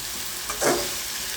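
Brief, soft sizzle of a fish and tomato curry in a pan, with a single short stirring swish in the middle and no speech.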